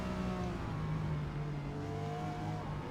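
A Toyota Supra GR race car in Forza Motorsport at Hakone, with a steady loud engine drone whose pitch slides downward as it brakes hard for a right-hand corner, continuous and close throughout.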